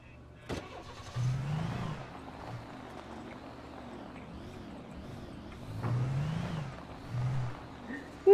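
Car engine in the video game Alan Wake, a low idling hum with a few swelling revs and some mechanical clunks, while someone talks over it at intervals.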